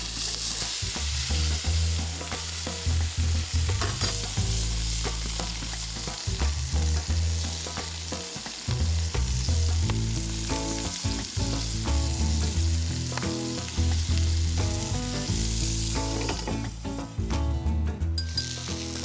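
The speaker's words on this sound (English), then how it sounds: "Couple of minutes, flip your burger, and then we're going to add the cheese." A burger patty sizzles loudly and continuously in a hot pan, the frying hiss steady throughout with scattered crackles and pops and a low rumble underneath, no one speaking.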